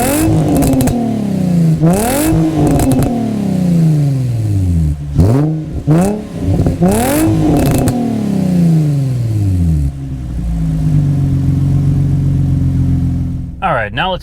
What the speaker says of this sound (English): let's fire it up so you guys can hear that new exhaust